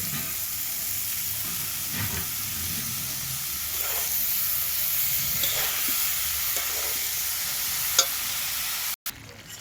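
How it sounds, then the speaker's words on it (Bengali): Ridge gourd and potatoes sizzle steadily in a pan, a constant hissing fry broken by occasional scraping stirs, close and moderately loud, with a brief dropout near the end. "আলুটা ভাজা হয়ে গেছে, এই ঝিঙেগুলো ঢেলে দিচ্ছি।"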